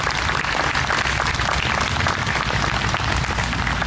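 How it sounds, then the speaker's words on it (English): A crowd applauds at an outdoor Memorial Day service, producing dense, continuous clapping that holds steady and fairly loud for the whole stretch. "Let's really give them a round of applause."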